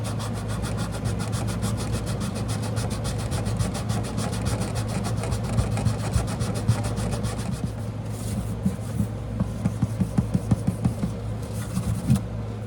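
Fine-grit sandpaper rubbing back and forth over the bridge area of a 1963 Martin D-28 acoustic guitar, a steady close scraping that turns into quicker, more distinct strokes near the end.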